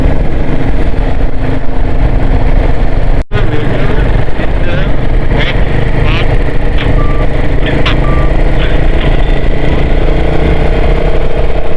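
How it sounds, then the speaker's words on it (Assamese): Royal Enfield Himalayan 450 motorcycle engines on a Ladakh road: a loud, close, continuous engine drone with road and wind noise, short tonal beeps in the middle stretch and one abrupt brief dropout early on. "The road is full of Himalayan 450 now, right now."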